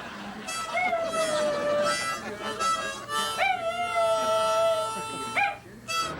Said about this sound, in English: Say hello to Chico the opera singing dog.